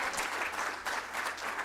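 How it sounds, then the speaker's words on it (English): A town hall audience gives a big round of applause at a youth mental health event, a dense, continuous wash of clapping that holds steady throughout. "One more big round of applause"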